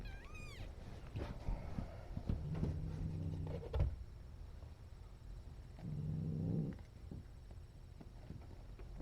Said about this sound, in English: She growls and purrs at the same time.